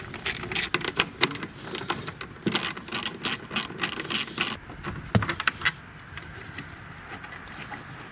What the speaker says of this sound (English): First order of business is remove these two bolts.